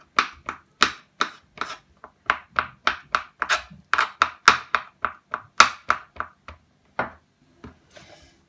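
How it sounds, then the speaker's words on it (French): Food gets crushed with the back of a spoon for Turkish crepes, a series of about twenty quick scraping thuds in an irregular rhythm, close and clear with no voices. "J'écrase avec le dos d'une cuillère."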